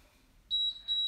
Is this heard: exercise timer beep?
yes